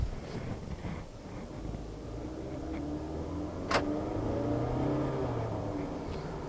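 A Toyota Camry pulling away on the road, its engine revving up with a steady mid-pitched hum from inside the cabin and a brief sharp click partway through.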